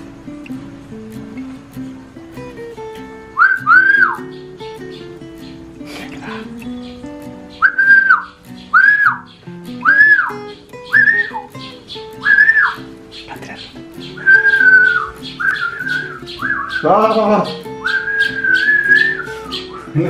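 A person whistles a run of short, rising two-note calls, and a small sparrow chirps back between them, nearby and loud, the whistles and replies alternating for about twenty seconds.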